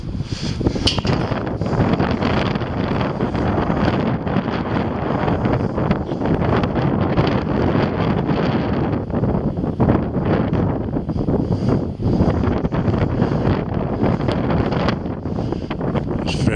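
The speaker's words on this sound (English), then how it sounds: "It's very windy, so the audio is not going to be brilliant." Strong wind blasts straight into the microphone, a continuous heavy rumble and buffeting that barely lets up for the whole stretch.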